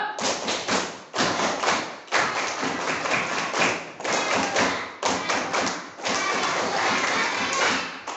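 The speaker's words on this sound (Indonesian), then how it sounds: "Tepuk pramuka." A classroom of pupils performs a scout clap pattern together, sharp unison claps grouped in rhythmic bursts separated by brief pauses, loud and close, with faint voices mixed in.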